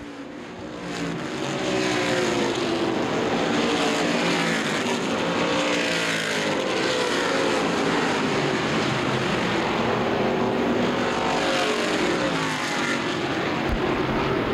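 Street stock cars roar through the final lap at Winchester Speedway in Indiana, a dense, loud pack of engines sustained nearly the whole time, with pitch sweeping as the cars pass and slide through the corner.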